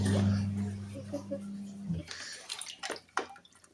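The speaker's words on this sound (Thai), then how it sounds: "จะล้างน้ำก่อน" Water splashes and rinses over a person cooling off on a very hot day, a steady running gush at first that gives way to scattered drips and splashes, with brief voice sounds and a chuckle mixed in.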